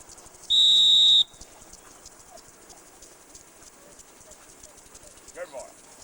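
A single sharp, steady whistle blast of about three-quarters of a second sounds once to direct a retriever during a hunting trip, followed by quiet outdoor ambience and faint movement.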